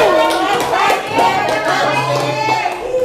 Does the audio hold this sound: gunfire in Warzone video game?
no